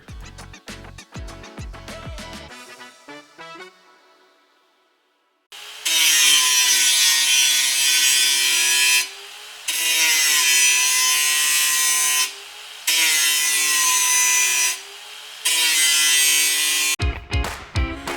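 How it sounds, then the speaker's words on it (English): Power grinder whining as it grinds new car speakers down to fit the original speaker rings of a BMW E46 interior, loud, close bursts of several seconds separated by brief pauses, with some handling taps before. "I just had to grind the speakers down a bit."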